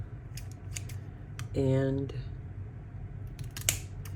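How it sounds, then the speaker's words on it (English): Scissors snipping a cured homemade candle wick, a single short cut close by in a quiet room, with a brief spoken word nearby. "let me get my scissors"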